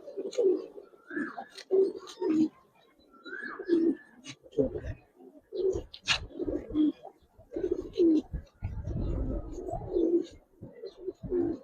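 Giribaz, racer and coloring pigeons coo over and over, close and moderately loud, in a steady string of throaty, rolling calls with short pauses between them.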